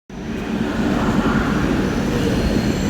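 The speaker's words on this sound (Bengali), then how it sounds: "ট্রেন ঢুকলো আমাদের ভুবনেশ্বরে।" A passenger train pulls into Bhubaneswar railway station, a loud, steady rumble of wheels and carriages that starts abruptly and holds without a break, heard from on board with no talking.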